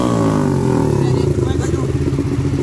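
A Honda motorcycle engine sputters and catches after a kick-start, then idles with a rough clattering rumble while voices murmur in the background.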